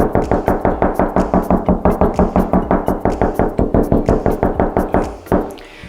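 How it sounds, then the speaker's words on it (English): A knuckle knocks quickly and repeatedly on a plasterboard bathroom wall to find a stud, giving about thirty loud, close, evenly spaced hollow thuds before they stop. "So I think just there, the old knock method."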